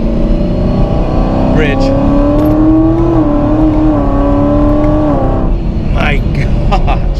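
A 1,000-horsepower Hennessey Exorcist's engine drones loudly and continuously, its pitch rising and falling as the car accelerates, with someone talking over it from inside the cabin.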